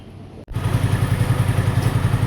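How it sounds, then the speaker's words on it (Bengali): A Hero Glamour 125 motorcycle engine, freshly rebuilt, fires up after a brief quiet moment and settles into a loud, close, steady idle with an even rhythmic pulse. "যে গাড়িটার ইঞ্জিনের কাজ করলাম সেটা যে এখন স্টার্ট চলতেছে।"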